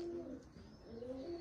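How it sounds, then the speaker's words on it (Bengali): Released pigeons give soft, low cooing calls, a couple of drawn-out coos rising and falling, faint and somewhat distant with no voices. "দেখেন এখানে কতগুলো কবুতর ছাড়লাম"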